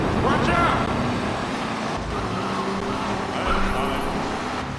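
Car engine and road noise from Grand Theft Auto III as a car drives through subway tunnels, a steady loud drone with tire and traffic-like wash throughout, no speech over it.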